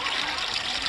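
A brief, steady gush of water pours into a water pot, close and fairly loud.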